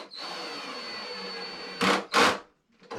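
A power drill drives screws into a vanity, a steady whirring run followed by two short loud bursts as the screw seats and the clutch slips, then quiet.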